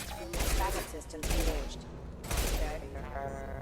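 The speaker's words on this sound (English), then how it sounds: "Who's shooting? Or I mean, where are they shooting from?" Dense bursts of gunfire from the video game Mass Effect 2 come in three sustained volleys separated by brief lulls, loud and close.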